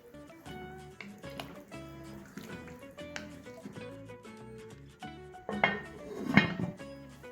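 Washed, drained rice is tipped into a cooking pot and stirred, giving soft scraping and clinking of a utensil against the pot, growing louder with a burst of rattling near the end, no speech.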